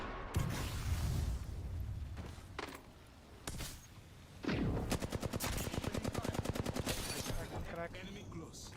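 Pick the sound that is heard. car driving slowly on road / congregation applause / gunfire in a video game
gunfire in a video game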